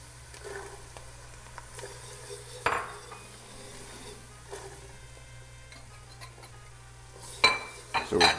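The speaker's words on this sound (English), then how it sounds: "Again, continue to stir." A spoon stirs diced vegetables (onion, celery and bell pepper) in a pot for shrimp gumbo, giving quiet, sparse scrapes and clinks with a couple of sharper knocks near the end.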